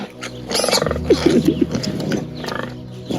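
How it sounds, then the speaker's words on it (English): Piglets jostle and squeal nearby in shrill, overlapping cries and grunts, with a voice talking over the commotion. "Get in there, little pig. Don't let them push you aside."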